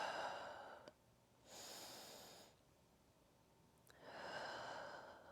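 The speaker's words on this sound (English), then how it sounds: "Take a free breath. Take 2 breaths here." Slow breaths in a quiet room during a yoga flow, three long soft exhalations spaced a couple of seconds apart, each with a faint click or catch before it, close and gentle with no talking.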